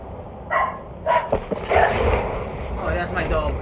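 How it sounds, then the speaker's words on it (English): A dog nearby in a room whimpers and yips, then breaks into short barks, its high whines and sharp calls rising over game sounds and a person's voice. "Oh, that's my dog."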